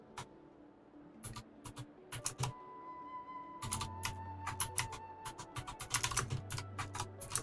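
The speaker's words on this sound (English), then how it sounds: "You can hear my clicky keyboard now." Rapid clicky keystrokes on a wired mechanical keyboard, close and crisp, coming in uneven bursts with short pauses, over a low steady hum and a faint sustained tone.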